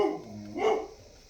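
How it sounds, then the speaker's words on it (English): One dog bark in a home, somewhat distant and muffled, rising briefly over quiet room noise. "whoop, that's my dog."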